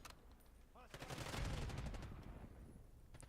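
Black Ops 6 gunfire from a bolt-action sniper rifle, heard as a quiet, dense stretch of game shots with crackling reports in the middle that fade toward the end.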